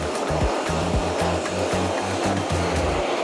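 Lekan backpack vacuum cleaner running with a strong, steady suction whine and rushing air, with low pulsing thumps underneath, close and loud.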